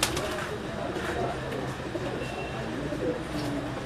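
Fancy Fanier pigeons, the largest breed in a pigeon keeper's loft, coo and shuffle in a steady close chorus, with a voice talking over them.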